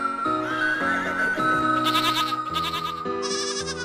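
Goat bleating in a wavering, tonal cry that rises and falls over a few seconds, fairly loud and close, layered over steady tonal background sound with no talk.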